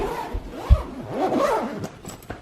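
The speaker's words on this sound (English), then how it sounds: "Let me zip it up." A badly overpacked travel suitcase being zipped shut, a run of raspy zipper pulls in close succession, close and fairly loud with no talking.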